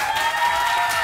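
An audience applauds in a short, dense burst of clapping, steady and fairly loud, with a faint crowd murmur underneath and no clear speech.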